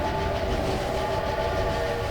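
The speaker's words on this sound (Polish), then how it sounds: "O, pociąg pancerny." A heavy armored train in the video game Enemy Front rumbles steadily past with a sustained low drone and a horn-like tonal hum, close and continuous.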